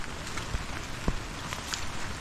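Rain falls steadily outdoors during a typhoon under signal number 2, a dense continuous patter with a few sharper drops hitting nearby surfaces and no voices.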